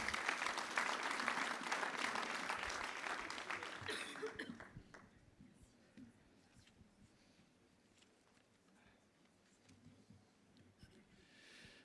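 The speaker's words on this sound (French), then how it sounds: "donc on peut t'applaudir quand même" Audience applause at a federation insurance union congress in a large hall, loud sustained clapping for about four seconds that then thins into scattered claps, murmurs and a few coughs.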